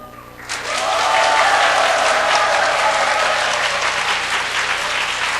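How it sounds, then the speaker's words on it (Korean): A church congregation at a mothers' prayer meeting breaks into loud, dense applause that starts abruptly and holds steady and close for several seconds, with no speech over it. "여러분들이 이렇게 와 하면서 박수를 치시니까요"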